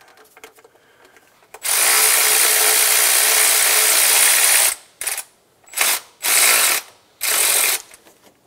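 Ratchet tightening a bolt on a coolant line bracket of a 2000-2006 Toyota Tundra 4.7L V8, first as one long, loud, rapid clicking run, then four shorter bursts in quick succession, close and alone without talk.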